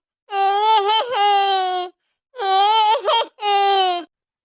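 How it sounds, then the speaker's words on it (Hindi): An infant cries in three loud wailing bursts with short pauses between them, close and clear with no other sounds. "उसके कानों में बच्चे के रोने की आवाज आ रही थी।"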